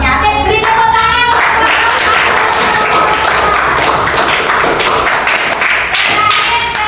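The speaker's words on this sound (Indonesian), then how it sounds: "Oke, beri tepuk tangan." A classroom of students clapping for a group presentation, a loud burst of many hands with some sharp individual claps and taps, continuing steadily for several seconds.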